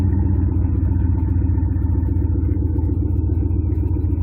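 A 1998 Dodge Durango's 5.9 V8 with no muffler, only a catalytic converter, idles with a deep, loud, steady rumble and a slightly lumpy throb, heard close and alone.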